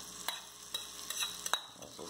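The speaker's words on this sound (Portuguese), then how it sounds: "Agora vamos aqui, ó, acrescentar a nossa cebola." Onion added to a hot frying pan for stuffed polenta, a low steady sizzle broken by a few sharp scrapes and taps of a utensil, quiet and close, no talk.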